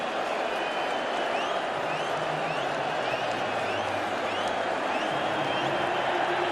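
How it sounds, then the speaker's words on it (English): A large stadium crowd at the 1995 Rugby World Cup final between New Zealand and South Africa cheers and applauds in a dense, continuous roar, with whistles and shouts over steady clapping and a commentator's voice underneath. "in the crowds at the back, there's jubilation"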